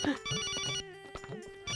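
A telephone ringtone plays as a bright electronic melody. It repeats in short tonal phrases with brief gaps, close and clear, with no voices over it.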